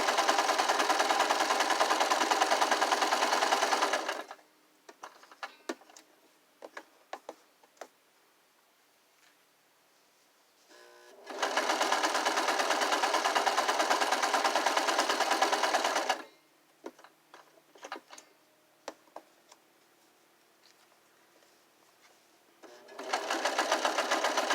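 Sewing machine stitching a curtain hemline in three loud, steady runs of rapid needle chatter, separated by quiet pauses filled with light clicks and fabric handling.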